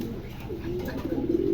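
Pigeons coo softly and close by, a low rolling coo building toward the end over a quiet background.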